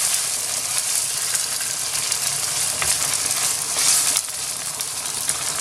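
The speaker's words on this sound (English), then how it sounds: "I'm gonna add the onions now. And mix it everything together." Onions frying with lamb keema in a hot pan, a steady bright sizzle with occasional scraping as the mixture is stirred, close and constant throughout.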